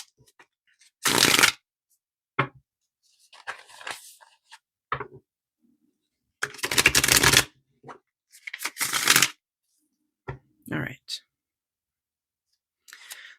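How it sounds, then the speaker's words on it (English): A deck of tarot cards is shuffled by hand in bursts: two long, loud riffling runs and several shorter flicks and taps in between, close and crisp, separated by quiet pauses. "So I'm just going to shuffle a little bit."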